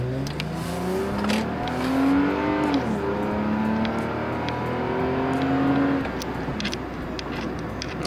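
A car fitted with an APEXI throttle controller accelerates from inside the cabin, engine tone rising in pitch through the gears with a steady drone and road noise, no talking.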